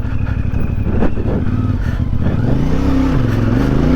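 CFMoto 450MT motorcycle engine heard onboard while riding, a loud, steady drone that rises in pitch as the bike accelerates, with wind and road noise underneath.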